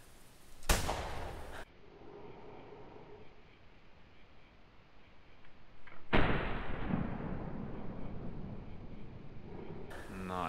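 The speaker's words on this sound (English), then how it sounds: "the sound of that rifle is actually quite loud" A .223 rifle fired at a red fox on a hunt: one sharp, loud crack near the start, then quiet outdoor ambience with soft talk, and a second loud blast or heavy bang partway through that decays slowly.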